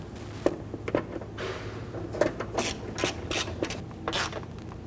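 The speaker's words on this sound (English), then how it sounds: "Now I'm going to use my 1/4-inch ratchet." A 1/4-inch hand ratchet snugs bolts into a plastic fog light housing on a 2006-2010 Hummer H3, giving close, short bursts of clicking and rasping with brief pauses between strokes.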